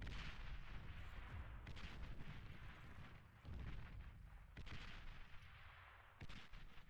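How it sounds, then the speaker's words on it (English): Mortar artillery firing in the video game Beyond All Reason, a dense, rumbling barrage of booms and blasts rolling continuously, faint and distant, with no talking. "his mortar's shooting at me"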